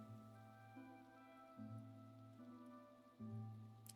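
Minecraft rain pattering as a soft, steady hiss, faint beneath a looping tonal game music bed that steps between chords.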